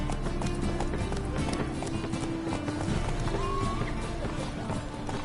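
Roach the horse galloping in The Witcher 3, a steady drumming of hoofbeats under constant ambient game noise, with a faint voice briefly present.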